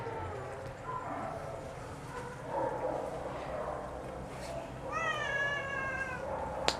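Cats in the female cattery of an animal shelter in Béthune meow indoors, with a clear, loud meow near the end rising above soft background clatter and distant sounds.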